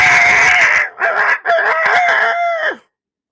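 An old rooster crows loudly and close by in the early morning, a long crow broken into several strained segments that ends abruptly, followed by silence.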